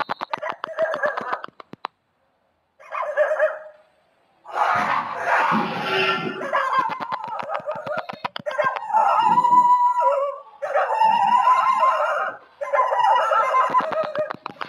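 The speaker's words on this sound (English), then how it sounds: "Stray dogs makes horrific sounds looking at the leopard." Stray dogs at night make loud, strained howls and yelps at a leopard, in several long bursts separated by short gaps of silence.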